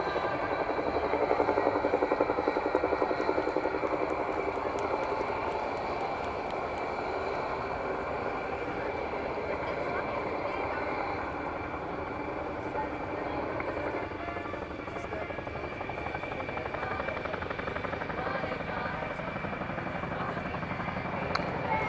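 A Chinook HC6A twin-rotor helicopter performs at an air display, its loud, steady rotor thrum and turbine whine filling the air continuously at moderate distance.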